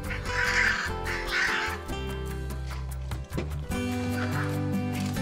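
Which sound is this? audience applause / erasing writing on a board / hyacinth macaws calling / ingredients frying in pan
hyacinth macaws calling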